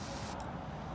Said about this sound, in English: we're going to take our carburetor cleaner with the tube. We're going to spray